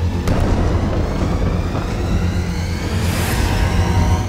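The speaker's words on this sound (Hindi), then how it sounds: "तीसरा धमाका" Loud, steady low rumbling from a Hezbollah missile strike in Israel churns continuously like a distant heavy blast rolling on, with a faint whooshing sweep near the end and no speech.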